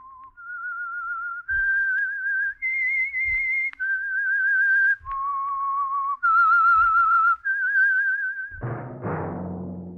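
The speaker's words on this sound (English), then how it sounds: "That whistle is your signal for the Signal Oil Program, The Whistler." A man whistles the theme melody for The Whistler radio mystery series, a clear solo tune of sustained notes rising and falling in short phrases, alone and close, ending in a brief burst of orchestral music.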